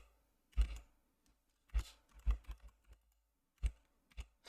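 Keys on a computer keyboard clack in a few scattered, sharp taps, some single and some in quick pairs, close and otherwise quiet, with no voices.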